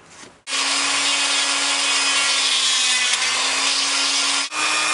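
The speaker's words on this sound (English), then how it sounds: "As you can see, I'm grinding each tooth out." Power grinder shaping teeth on a mask, a high, steady whine held for several seconds between brief pauses at the start and end.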